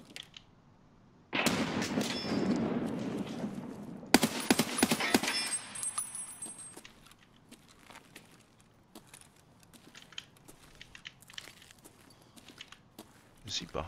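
Grenade blast and gunfire in Escape from Tarkov (SPT offline), a sudden loud burst followed by a second sharp explosion and scattered shots and footsteps, with a voice talking over parts.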